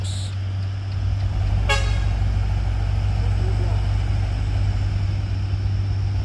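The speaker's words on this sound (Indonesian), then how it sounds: "truk apa ini gagal nanjak bosku" A box truck labours on an uphill climb, its engine droning low and steady throughout, with one sharp horn toot partway through.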